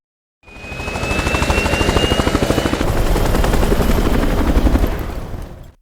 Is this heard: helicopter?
yes